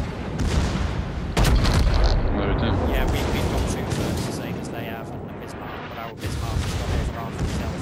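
Battleship guns booming in the naval combat game World of Warships during an Arizona battle, heavy rumbling salvos filling the clip almost continuously with a brief dip near the end, while a player talks over the action.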